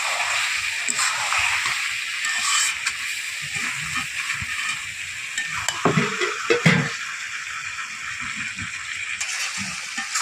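Chicken with turmeric fries in a pan for a village-style curry, a constant loud hiss and sizzle under repeated scraping stir strokes, heaviest around the middle.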